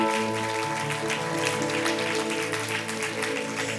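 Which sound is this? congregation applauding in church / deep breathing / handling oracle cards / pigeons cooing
congregation applauding in church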